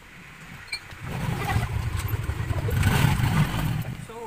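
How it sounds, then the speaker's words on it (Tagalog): Motorcycle engine cranked and started after fresh oil was added, rising into a steady close idle with rattling mechanical clatter, no talk. "Start na natin yung ating motor. Let's start it."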